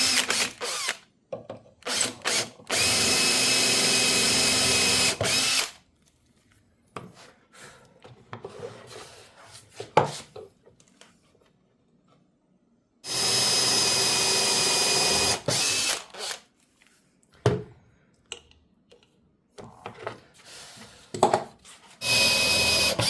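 A power drill bores holes in a wooden family heirloom cradle, with two sustained loud whirring runs of several seconds, scattered clicks and handling knocks between them.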